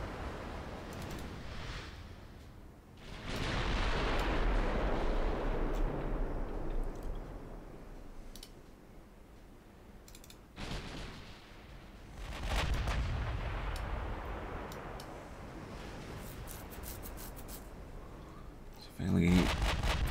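Battleship main guns firing in a naval video game with Spanish dreadnoughts, heavy booming salvos rolling into long rumbling tails, with a fresh sharp blast near the end, no talk.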